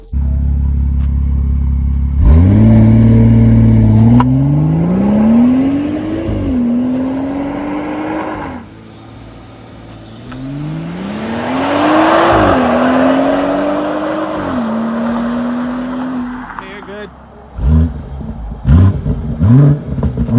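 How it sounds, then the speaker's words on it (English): A BMW 440i exhaust revs repeatedly up close, with rising and falling engine sweeps, a louder pass with a roaring drone in the middle, and several sharp quick blips at the end. "I'll go ahead and end the video with some exhaust clips"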